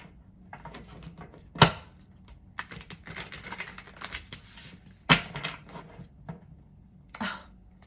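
Tarot cards being shuffled by hand, quick soft riffling flutters with two sharper snaps, close and fairly quiet, with faint room noise between bursts.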